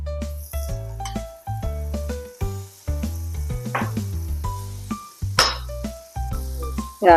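Butter sizzles in a hot pan on medium heat for protein pancakes, with repeated clinks of utensil against pan and bursts of frying crackle over several seconds, close and moderately loud.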